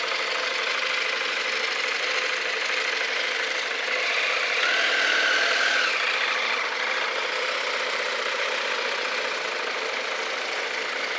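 A CF-Moto Ibex 800 motorcycle engine runs steadily while riding, a continuous mid-pitched drone mixed with wind rush that stays at an even, moderately loud level throughout with no talking.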